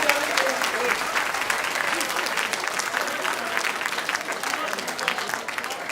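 A comedy show audience applauds steadily and loudly throughout, dense clapping from many hands without pause.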